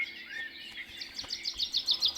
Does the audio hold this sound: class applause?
no